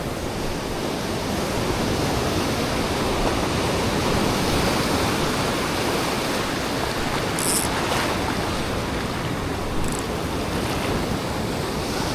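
Strong sea current and surf wash continuously during shore fishing near rocks, a loud, steady roar of waves and rushing water close to the microphone with some wind, no voices.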